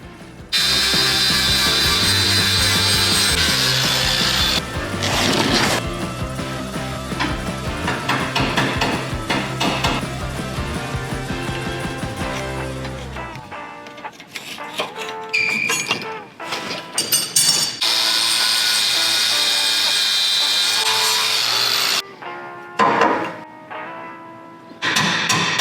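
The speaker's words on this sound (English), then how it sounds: "Now I can see where I need to grind." An angle grinder working on chalk-marked metal brackets, a loud steady whine for about thirteen seconds, then broken bursts of grinding with pauses, ending in one more sustained stretch.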